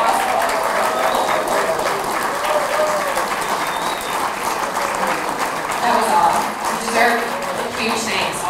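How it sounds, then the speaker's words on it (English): Sustained audience applause at a Senior Olympics award ceremony, honoring staff and volunteers, a steady dense wash of clapping with crowd murmur and voices mixed in throughout. "Can we just give them a huge round of applause for making this possible?"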